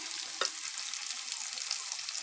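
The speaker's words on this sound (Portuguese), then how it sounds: "Vamos deixar ele fritando." Food frying on a wood-fired stove at a country farmhouse gives a steady, close crackling sizzle with one brief louder pop early on, and no voices.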